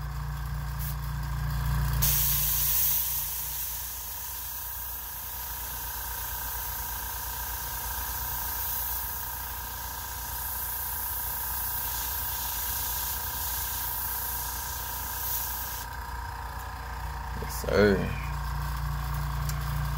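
An airbrush mists paint onto custom shoes for a burn effect, a steady close hiss of air running for several seconds before cutting off, with quieter background hum and a brief clatter near the end.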